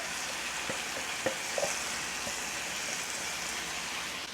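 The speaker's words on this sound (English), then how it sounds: "Let's add our crushed tomatoes." Crushed tomatoes going into a sizzling pan of Southern spaghetti sauce, a steady hiss and crackle with a few soft spatters and pops, no talking.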